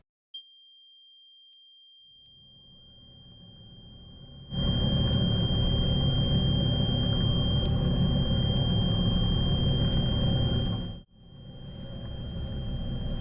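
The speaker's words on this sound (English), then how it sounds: "the buzzer sound was actually very faint" A faint, steady high-pitched alarm buzzer tone sounds on a boat, continuous from the start under a rising engine rumble that grows loud, drops out briefly and then swells again.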